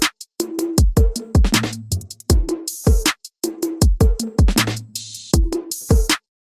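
Dry drum mix heard without tube saturation on the drum bus: punchy kick, snare and hi-hat hits in a fast groove with crash accents, loud and close, no voices.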